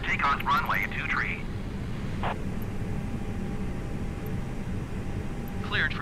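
An Airbus A320 starting its takeoff roll in Microsoft Flight Simulator 2020, a steady low broadband engine rumble with faint radio chatter over it at the start and end.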